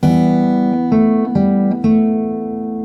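A fingerstyle acoustic guitar plays part of a song, a held chord ringing while a few single notes are picked over it, clear and close with no talking.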